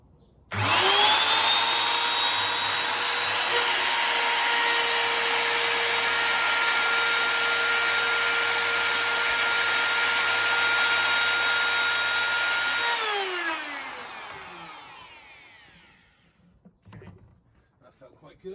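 Macallister MSR1200 router cutting a groove in wood without dust extraction: a loud, steady high-pitched whine held for about twelve seconds, then winding down as the motor spins to a stop.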